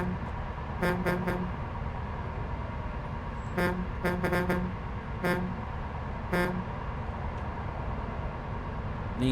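Truck horn in Euro Truck Simulator 2, sounding in several short toots and brief clusters over the steady drone of the engine and road noise, with no talk.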